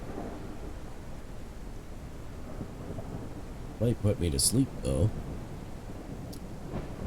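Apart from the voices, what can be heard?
thunderstorm in a video game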